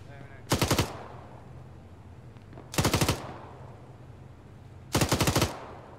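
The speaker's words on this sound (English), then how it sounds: "Getting sniped from somewhere." Three separate bursts of automatic gunfire from the ARMA military video game, each about half a second of rapid shots, spaced roughly two seconds apart at moderate distance, with no talking.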